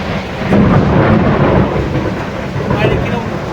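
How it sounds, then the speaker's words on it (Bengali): Loud, close thunder from a storm outside rolls in a long continuous rumble over steady rain, swelling near the start and again toward the end. "বাইরে কিরকম বিদ্যুৎ চমকাচ্ছে আর বাস ওড়ার মতন আওয়াজ"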